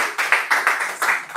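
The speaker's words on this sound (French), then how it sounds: "Applaudissons pour Jésus" A church congregation gathered for a Sunday teaching service claps in rhythmic, fairly steady bursts, a loud and close wash of many hands with no speech over it.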